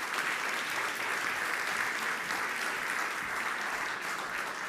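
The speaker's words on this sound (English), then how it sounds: "So please give a big round of applause both to Noora and Carlos." A conference audience at a 39th annual media session on television, radio and digital gives dense, loud, continuous applause for nearly five seconds.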